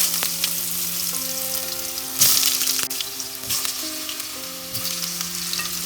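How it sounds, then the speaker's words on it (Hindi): Potato and pumpkin pieces fry in a pan of hot oil seasoned with bay leaf, asafoetida and five-spice, giving a steady close sizzle with a few sharper crackles and spatula scrapes, with no voices. "आलू एंड पम्पकिन हमें अच्छे से फ्राई करना है"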